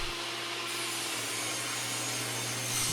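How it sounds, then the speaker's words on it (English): Poplar pieces from pallet packaging being cut on a saw, a steady continuous whine and rasp of the blade through wood that holds nearly constant for about three seconds with no voices. "Now I'll cut the pieces for the frame. I'm going to cut these out of poplar"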